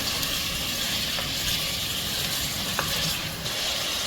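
Mutton roasts with spices in a pan, giving a continuous dense sizzle and hiss with faint occasional scrapes and clicks of a utensil. No one speaks.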